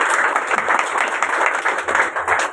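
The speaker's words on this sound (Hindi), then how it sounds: "तो ताली बनती है आपको।" An audience at a company branch meeting applauds: dense, sustained clapping from many hands, loud and close, throughout.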